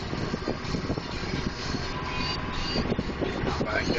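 Tractor engine running steadily while pulling a soybean planter across a field, a constant broadband rumble with wind buffeting the microphone, close and loud, no speech.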